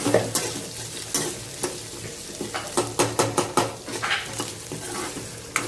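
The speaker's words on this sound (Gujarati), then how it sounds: "થોડા તેલમાં થવા દઈશું" Potatoes fry in a little oil at home, a steady soft sizzle broken by repeated scraping and stirring clicks of a utensil against the pan, close and without talk.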